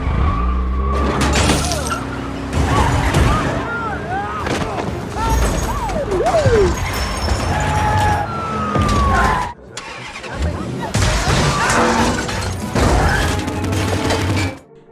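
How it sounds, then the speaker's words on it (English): Hacked cars crash into each other on city streets in a Fast & Furious film: loud metal impacts, shattering glass, screeching tyres and revving engines pile up in dense chaotic bursts, with a brief drop to near silence midway. "Chaos erupts throughout the streets as the hacked cars crash into each other"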